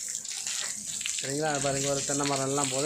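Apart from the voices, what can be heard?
water pouring from a pipe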